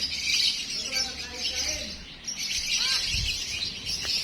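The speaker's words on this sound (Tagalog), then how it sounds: "Ay, may mga ibon!" Birds chirp and call at a lakeshore by a lighthouse in Mexico, Pampanga, with thin repeated notes over a constant high insect-like buzz and outdoor background noise.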